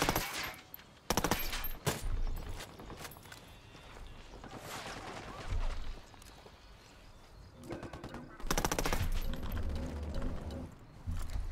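Gunfire in Ghost Recon Wildlands rattles in repeated bursts of loud automatic shooting at close range, easing off between volleys, with bird calls in the background.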